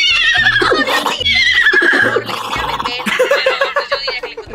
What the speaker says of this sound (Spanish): Aquí que estaba relinchando más.